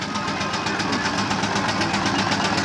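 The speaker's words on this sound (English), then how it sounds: "That's his Freelance engine." A miniature Freelance steam engine at a steam fair chuffs loudly and close by, a fast, even rhythm of exhaust beats over a steady mechanical rumble.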